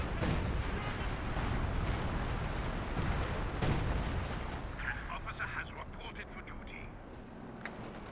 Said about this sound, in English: And artillery's coming down